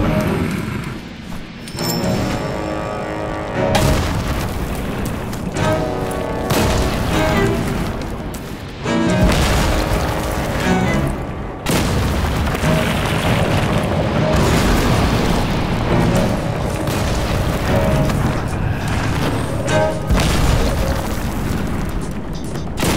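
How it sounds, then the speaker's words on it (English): Ballista launching in the stealth game Styx: Shards of Darkness, heavy booming impacts and rumbling bursts repeating across a loud, dense game soundscape with music beneath. "Now I'm gonna have to fire the ballista myself."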